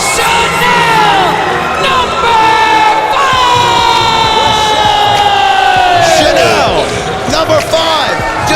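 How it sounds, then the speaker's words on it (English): A loud wrestling crowd at a women's battle-to-the-bell match roars and cheers up close while high piercing screams and shrill yells rise and sweep over the din, with voices shouting throughout. "That was a scream I don't think I'll ever get out of my mind."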